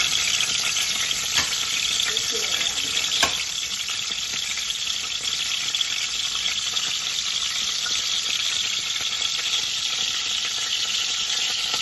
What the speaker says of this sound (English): So here I'm going to put 4 leaves of garlic, cloves of garlic to cook